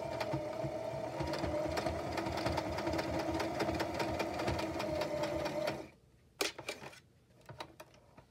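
A sewing machine stitches fabric with rapid, even mechanical clatter for about six seconds, then stops, followed by a few light handling clicks and thumps.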